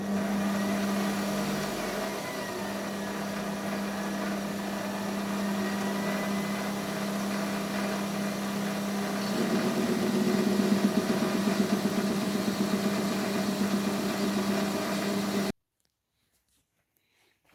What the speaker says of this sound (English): Now I'm going to turn it up in the lathe.